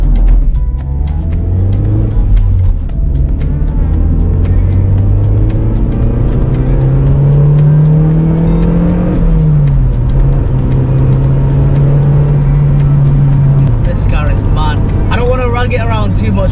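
A rebuilt Mazda MX5, previously crash-damaged, drives off with its engine rising and falling through the gears, loud and close from inside the car, with talk over it.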